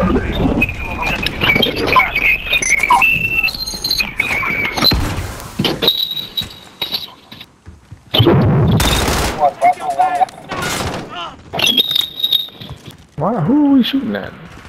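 Bursts of video-game gunfire in a multiplayer shooter, loud and intermittent with gaps between volleys, heard alongside excited player voices and game sound effects.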